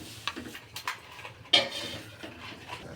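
A spoon clinks against a pot of potato and green pea curry as it is stirred, then a lid is set on with a sharper clatter, all quiet and close with no talk.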